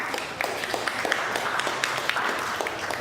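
Audience at a corporate invitational event giving a round of applause, a fairly faint, even spread of many hands clapping that continues steadily.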